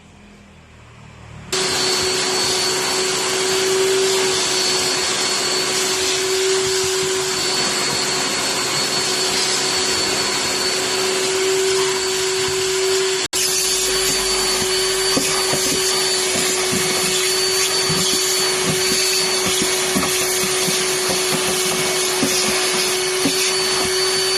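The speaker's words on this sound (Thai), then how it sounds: "เราก็จะดูดฝุ่นทำความสะอาดภายในรถให้" Vacuum cleaner cleaning the interior of an Isuzu All New D-Max pickup with the console removed, starting up after a quiet moment, then droning loud and steady with a constant whine, the tone shifting slightly as the nozzle moves.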